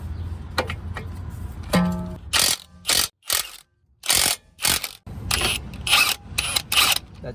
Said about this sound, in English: Let's remove this first. This is 22mm sockets.